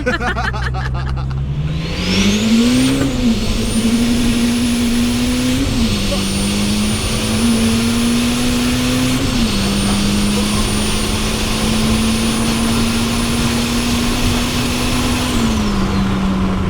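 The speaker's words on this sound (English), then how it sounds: "there's a bit of spool noise, but it doesn't chatter that much" A turbocharged B16 engine in a Triumph Acclaim drones steadily at close range with a rising whistle of turbo spool, pitch climbing and settling as it accelerates, voices briefly audible.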